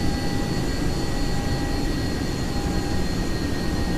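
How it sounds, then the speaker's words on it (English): Boeing 737-800 jet engines roar loud and close, a steady broadband rumble with sustained high whining tones running through it and no talking. "Listen at that engine, man."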